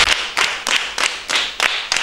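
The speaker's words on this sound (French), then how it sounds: "On applaudit." A small group of pupils preparing for the primary school certificate applaud in short bursts, about seven sharp rounds of clapping in quick rhythm, close and fairly loud.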